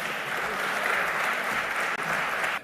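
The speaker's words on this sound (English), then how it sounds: "Let us welcome him with a huge round of applause" Sustained audience applause welcoming a speaker to the stage at the BioAsia 2024 conference, a dense steady wash of many hands clapping at even loudness throughout, with no voices over it.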